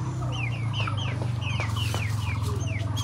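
Large farmyard chickens cluck and squawk repeatedly at close range over a constant low hum, with no talking.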